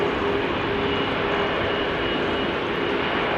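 An airliner's engines run at Amsterdam Schiphol Airport on a rainy day as it prepares to taxi, a loud, steady roar with a faint tonal whine, close and constant throughout.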